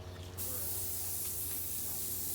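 An aerosol can sprays a light coat of paint onto a water pump in one steady, close, continuous hiss.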